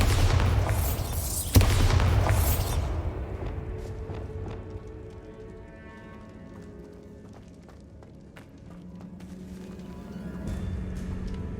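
A Bombarda spell explodes in the video game Hogwarts Legacy: a loud, rumbling blast peaks in one sharp crack, then fades into scattered debris clatter and low rumble.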